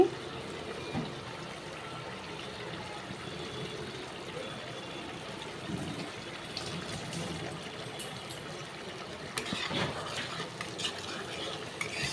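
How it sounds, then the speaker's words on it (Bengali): Spice paste for a tilapia fish curry bubbles vigorously in oil on a high gas flame, a continuous close sputter with occasional clinks of a utensil against the pan. "মশলাটা ফুটছে খুব জোর মানে গ্যাসটা জোর দেওয়া আছে বলে মশলাটা ফুটছে ভালো"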